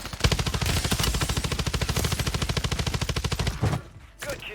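A Kastov LSW light machine gun in Call of Duty Warzone fires one long, rapid automatic burst of loud, evenly spaced shots. It stops abruptly, leaving a short quieter tail.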